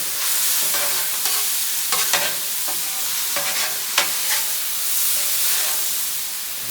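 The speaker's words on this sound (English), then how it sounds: "I'm going to go ahead and combine my meat and my veggies now." Meat and vegetables for pad thai stir-fry on a hot Blackstone griddle, a loud, steady sizzle broken by repeated sharp scraping strokes of a spatula tossing the food.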